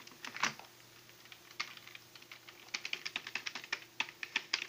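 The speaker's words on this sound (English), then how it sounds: "if I push the WAST keys on my keyboard, the same thing happens." Keys on a PC keyboard are pressed, a few scattered clicks at first, then a quicker run of sharp, close taps in an otherwise quiet room.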